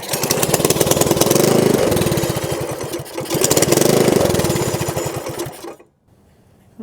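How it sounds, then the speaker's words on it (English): A Predator 224 small engine, with fuel now switched on, starts and revs in two loud surges with a rapid firing rhythm, falling quiet near the end. "Okay, let's try turning the fuel on this time. That looks better. Let's try this again."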